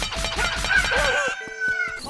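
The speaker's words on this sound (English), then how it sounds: "Oh god, the chickens!" Chickens clucking and a rooster crowing nearby in Legend of Zelda: Link's Awakening, a run of rhythmic clucks overlapping a drawn-out crow, then a few sharper clucks.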